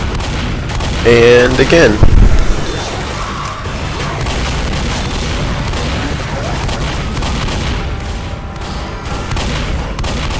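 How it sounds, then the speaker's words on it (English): Shotgun fire in the video game Left 4 Dead during a survival round on the bridge, with a cluster of loud booming blasts early on, then a dense, steady roar of game action as a voice speaks briefly. "I completely empty out my shotgun and then just grab a new one."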